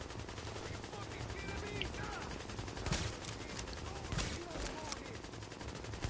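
Gunfire in the video game The Division, bursts of rapid automatic fire and scattered shots over a busy game backdrop, moderately loud, with people talking over parts of it.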